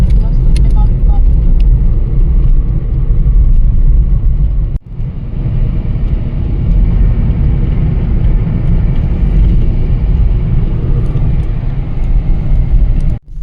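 A car carries passengers through hill roads toward a city in Madhya Pradesh, its engine and road noise forming a loud, steady rumble throughout, with a brief dip in the middle.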